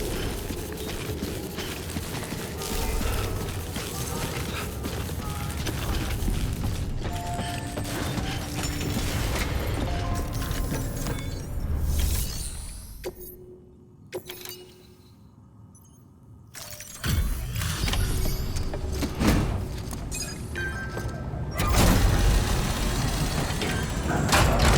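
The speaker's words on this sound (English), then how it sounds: "Decontaminating suit." A suit decontamination machine in the video game Death Stranding runs with dense hissing, whirring and clanking, cuts to near silence for a few seconds, then roars back loudly.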